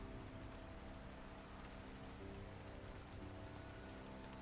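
Steady rain pattering across surfaces in the Timberborn game world, a soft even hiss with no break, faint and continuous.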